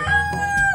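A rooster crows once, close and loud, a short strained call with a clear tonal wail.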